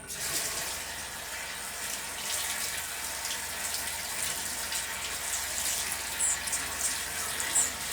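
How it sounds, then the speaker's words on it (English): Cabbage being rinsed under running water in a kitchen sink, a steady hissing tap stream with faint splashes and small clatters near the end. "I do this in the sink. We're dumping it. And we're rinsing it."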